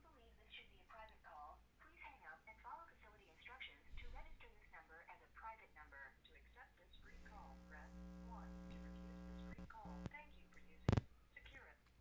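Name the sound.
incoming phone call on a radio talk show line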